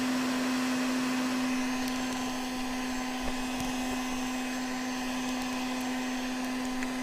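Heat gun blowing hot air to soften PVC pipe, a steady whirring roar with a strong constant hum, close and continuous with no talk.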